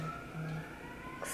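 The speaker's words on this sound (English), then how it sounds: "stop this if these sirens get too loud." Emergency sirens pass outside a room, heard faint and distant as a thin wavering wail under a low background hum.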